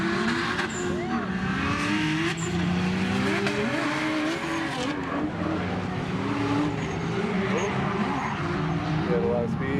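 A drift car driven fast around a coned course at a drift event: a loud engine revving and wailing with screeching tires, while people talk over it.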